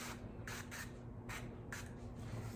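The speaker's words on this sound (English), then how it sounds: "I'm just gonna spray the bottoms" Several short hissing squirts of cooking spray onto a muffin tin, evenly spaced, over a faint steady background hum.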